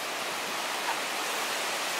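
Mae Klang waterfall rushes in a steady, dense wash of falling water, a constant broadband roar with no breaks or voices.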